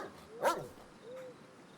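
A dog barking in the horror video game Oneirophobia, one sharp close bark followed by a softer whine, against quiet background ambience.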